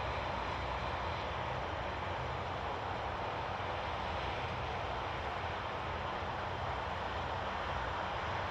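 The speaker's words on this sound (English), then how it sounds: "WestJet's on a go around on 24 left." A WestJet airliner going around on runway 24 left at Toronto Pearson Airport makes a steady, broad jet engine roar that stays loud and even throughout with no talk over it.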